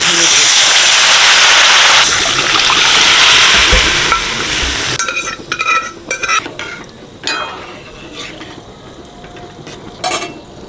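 Black gram dal hitting hot oil with asafoetida, chilli and turmeric, a loud dense sizzle for several seconds that drops to softer crackling with scattered stirring clinks and scrapes.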